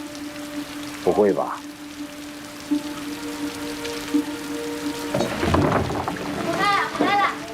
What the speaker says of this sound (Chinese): 冒这么大雨回来的？